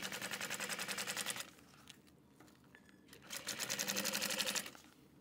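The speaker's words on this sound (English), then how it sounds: "I'm just gonna pull these layers apart and top stitch." A sewing machine topstitching through layers of clear TPU on a clear train case runs in two fast, rhythmic bursts of close needle clatter, separated by a quieter pause of handling.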